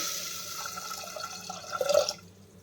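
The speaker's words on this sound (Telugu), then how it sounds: "ముందుగా ఫ్రై చేసుకున్న గోధుమల్ని కుక్కర్లో వేసి త్రీ కప్స్ వాటర్ని యాడ్ చేసుకుందాం" Water pours from a cup into a pressure cooker holding fried wheat rava, a short steady gush that swells briefly toward the end before cutting off, close and moderately loud.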